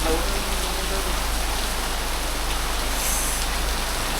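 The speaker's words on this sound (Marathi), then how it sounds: "खूपच जास्त पाऊस आहे गावी." Heavy rain pours down on a village in the early morning dark, a steady, dense hiss that continues without a break throughout.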